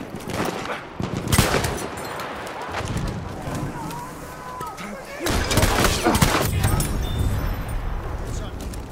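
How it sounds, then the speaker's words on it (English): Machine gun fire crackles in bursts through a Battlefield match, with loud shots near the start and after the middle over a constant battle din and some distant voices. "Look out! Machine gun!"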